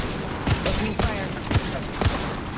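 Gunfire in a video game, a rapid, steady rattle of shots with heavier individual reports at roughly half-second intervals, loud and continuous with no talk over it.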